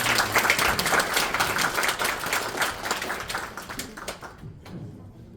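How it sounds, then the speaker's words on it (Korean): An audience claps steadily to welcome a speaker to the stage at a Korean talk on AI for game development; the applause is loud and dense at first, then thins and fades out near the end. "큰 박수로 모셔주시기 바랍니다."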